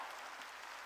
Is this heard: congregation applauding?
yes